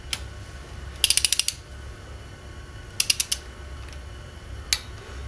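A ratchet wrench tightens Subaru cylinder head bolts onto a new head gasket: three quick bursts of rapid clicking, the first two with about six clicks each and a shorter one near the end, over a steady low background hum.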